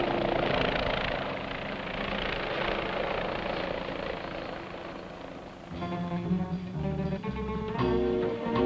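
A Westland Wasp naval helicopter flies away from a ship toward an aircraft carrier, its loud rotor and engine roar steady and close throughout, with tonal engine whine rising in the latter part.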